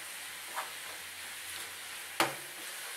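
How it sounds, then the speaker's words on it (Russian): Chopped onions sizzle steadily as they fry in a hot pan until translucent, a soft continuous hiss with a sharp clack of a utensil near the end. "И теперь буду жарить, пока лучок станет таким вот прозрачным."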